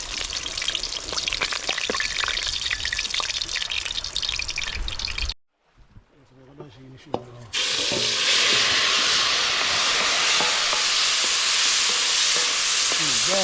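Shrimp and garlic cooking in a pot over a woodfire outdoors by a rainy river, a dense steady sizzle broken by a brief quiet gap with clinks before the loud frying resumes.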